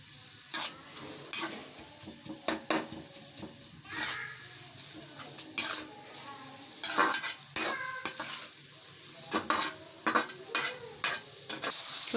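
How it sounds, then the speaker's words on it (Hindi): A spoon stirs chopped onions frying in hot ghee for a chicken jalfrezi. The scraping comes in repeated close strokes over a steady sizzle, and there is no talk. "ये देखिए इस तरीके से इसके अंदर चम्मच चलाते रहना बराबर से, ताकि ये जो हमारी प्याज है जो हमने कटिंग की हुई थोड़ी बहुत खुल जाए"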